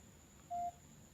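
A DZ09 smartwatch acting as a remote shutter triggers a phone camera, giving a single short electronic beep near the middle, clear against a quiet background with a faint steady high hum.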